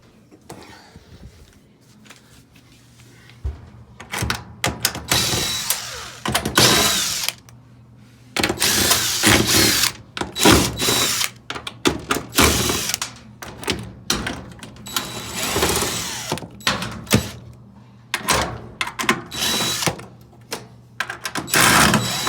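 A power driver removes the screws holding the blower wheel on a Maytag dryer, with repeated loud whirring bursts of varying length, close by, separated by brief pauses and handling clatter.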